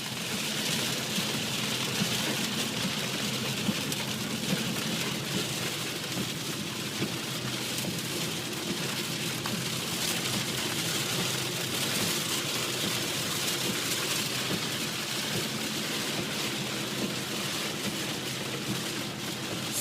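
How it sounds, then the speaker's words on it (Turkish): Heavy rain pounds steadily on a car in a blinding downpour with the wipers running, a dense, continuous roar of drops with no break across the whole stretch. "Göz gözü görmüyor. Sel sel."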